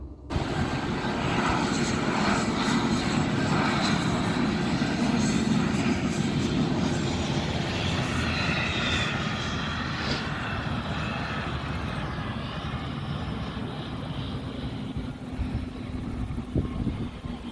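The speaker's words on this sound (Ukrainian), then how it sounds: "перший раз бачу щоб гелікоптер прилетів і сів тут, кружляв, кружляв він тут хвилин п'ять" A helicopter's rotor and engine roar loudly and steadily as it circles and lands, the pitch shifting slightly as it moves overhead, fading a little toward the end.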